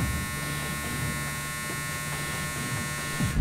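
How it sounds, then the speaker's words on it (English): A clothes dryer's end-of-cycle buzzer sounds as a steady, sustained electric buzz that holds for a few seconds, fairly loud and close, with a slight bump at the end. "And that sound was my dryer saying"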